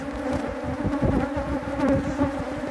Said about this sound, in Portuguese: Todas as abelhas da casa saíram,